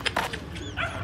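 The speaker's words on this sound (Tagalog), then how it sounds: "Ang daming group of dogs." A group of street dogs in Egypt barking and yipping close by, several short overlapping barks in quick succession with a whimpering tone.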